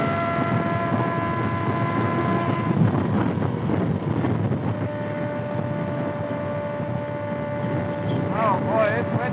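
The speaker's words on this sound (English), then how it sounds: "Oh boy, it's windy as hell." Strong wind buffets the rider on a 2025 Kawasaki ZX6R motorcycle during a rainy, bumpy run, a steady roar of wind noise over the engine hum with brief rising tones near the end.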